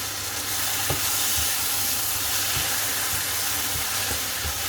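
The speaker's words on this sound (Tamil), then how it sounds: "நல்லா மிக்ஸ் பண்ணு" Prawn curry gravy being stirred in a pan, a steady close sizzle and hiss with soft repeated scraping strokes of the spoon running throughout.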